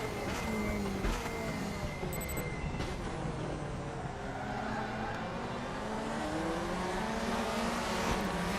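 DTM touring race car in the RaceRoom sim racing game, its engine droning steadily throughout with shifting pitch sweeps as revs rise and fall through corners, dense and continuous with no talk.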